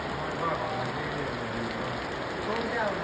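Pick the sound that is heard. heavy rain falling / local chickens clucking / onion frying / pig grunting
heavy rain falling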